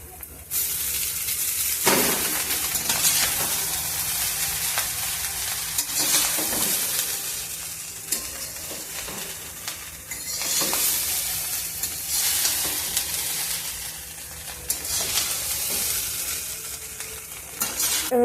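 Rice tossed and stir-fried in a hot pan with fried carrot, beans, egg, cashews and raisins, giving a steady loud sizzle broken by repeated scraping stirs throughout.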